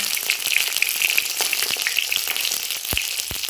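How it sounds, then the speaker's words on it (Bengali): Eggplant slices fry in hot oil with a busy, crackling sizzle and scattered pops, up close and continuous, with a couple of louder spits toward the end. "বেগুনটা ভেজে দিই"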